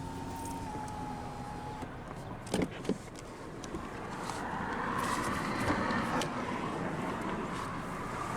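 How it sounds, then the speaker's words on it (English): Driver's power window on a 2017 Jeep Renegade Sport rolling down, a steady motor whir building from about the midpoint under wind and cabin noise, with a couple of brief clicks just before. "now we'll go ahead and roll down the driver's window"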